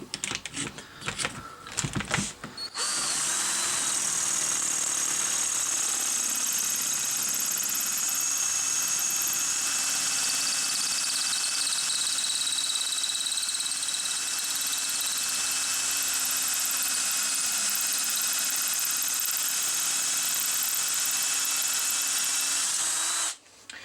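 After a few sharp clicks, a power drill whines steadily at high speed for about twenty seconds while cross-drilling a Volvo brake caliper, then cuts off abruptly.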